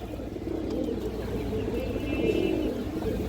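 A male cream-eyed Kaldom pigeon coos close by in a low, steady, rolling murmur that swells slightly toward the end, with no voices over it.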